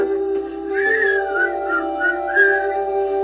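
A person whistles a bright, wavering tune in the cheerful Snow White song style, the melody rising and falling in phrases over a steady sustained backing tone, close and clear with no talking.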